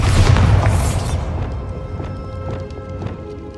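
Bombarda explosion spell cast in Hogwarts Legacy, a loud, close blast that opens with a heavy low boom and crackling burst, then fades into a rumbling tail with scattered light impacts.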